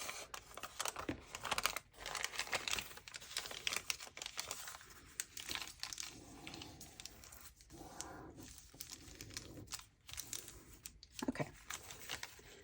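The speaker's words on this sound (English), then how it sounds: "Then we're going to open it back up and fold it the opposite directions." Dollar Tree paper is opened up and refolded the opposite way, with soft crinkles and crisp rustles in irregular bursts, quiet and close, with no talk.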